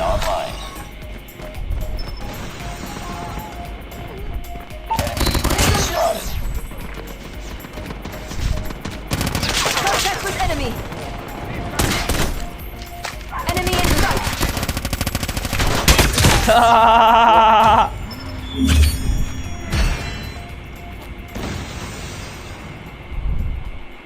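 Gunfire crackles through a Call of Duty Mobile ranked match, bursts of automatic weapon shots and sharp cracks in uneven clusters, with a voice chatting over the action.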